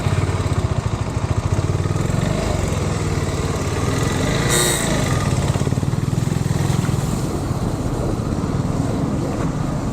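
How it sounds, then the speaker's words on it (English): A motorcycle engine runs steadily close by with a fast, even putter and rasp lasting throughout, loud and unbroken, with no voices over it. "I almost got my bike running"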